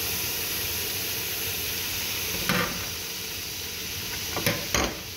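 Dried shrimp frying with golden onions in a pan: a steady close sizzle and hiss throughout, broken by a few sharp scrape-and-crackle bursts as the food is stirred.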